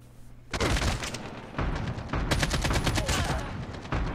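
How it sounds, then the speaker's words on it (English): An AK-47 assault rifle fires in Call of Duty Mobile during a Hardpoint match: sustained loud full-auto bursts of sharp, rapid cracks, split by short pauses and carrying on almost without a break. "I really like this AK"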